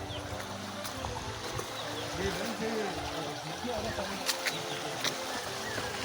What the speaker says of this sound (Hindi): ओए आ जाओ, झील की आवाज आने लगी है।